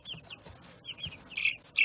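Two-week-old chicks make faint, high, short chirps scattered through a quiet background, with a louder burst of calls at the very end.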